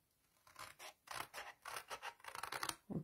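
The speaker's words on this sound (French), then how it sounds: "On prend ces ciseaux, vous suivez. Alors, je coupe là, je coupe sur mes languettes." Scissors snip through cardboard tabs in a series of crisp, irregular cuts, some quick and clustered, others spaced apart, close and fairly quiet.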